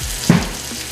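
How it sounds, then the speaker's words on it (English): Steaks frying in a pan give a constant soft hiss of sizzling fat, with one brief dull knock near the start, heard close with no talking. "So I got about 10 more minutes on these steaks."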